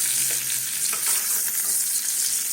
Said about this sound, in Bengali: এই তেলের মধ্যে চিংড়ি মাছটাকে দেবো